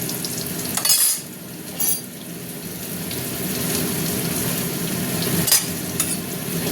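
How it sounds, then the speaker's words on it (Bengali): Bay leaves and dried red chillies fry in hot oil for a chicken curry, giving a steady close sizzle with a few brief clatters of stirring and utensil sounds, and no voice. "তেল গরম হয়ে গেছে, তেজপাতা আর শুকনো লঙ্কাগুলো দিয়ে দিলাম।"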